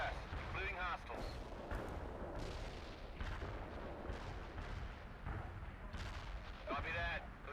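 Artillery barrage fire in the real-time strategy game World in Conflict: repeated deep booms and rumbling blasts roll one after another, with a few brief radio-style voices cutting in between them.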